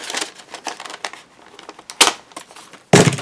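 Paper envelope torn open by hand, with soft rustling and crinkling building to two sharp, loud tearing bursts near the end.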